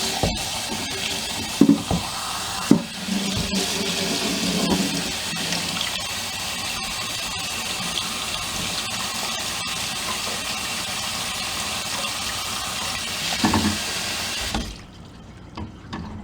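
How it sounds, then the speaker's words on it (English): Water runs steadily and noisily from a bowl into a colander while watermelon seeds are rinsed, a constant close gushing with occasional clunks, cutting off near the end. "I fill this up with water, let the water overflow into the colander here, the strainer"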